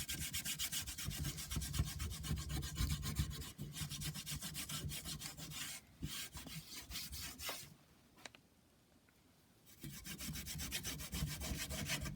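A rag rubs wax onto a wooden church window frame in quick back-and-forth strokes, a close, soft scrubbing that pauses briefly before resuming.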